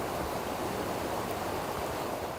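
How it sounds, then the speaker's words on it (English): Johnson Creek in flood after repeated atmospheric river storms, rushing past an apartment complex northeast of Milwaukee: a dense, steady roar of churning water with no break. "The sounds of Johnson Creek echoes through an apartment complex northeast of Milwaukee."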